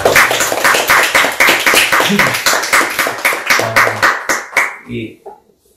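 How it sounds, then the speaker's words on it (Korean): A church congregation claps in a quick, regular rhythm, loud and close, each beat distinct as it carries on steadily and then tapers off to silence at the end. "오늘 우리 하나님께 영광의 박수 올려드리겠습니다"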